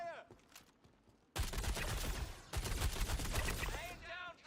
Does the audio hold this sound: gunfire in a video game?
yes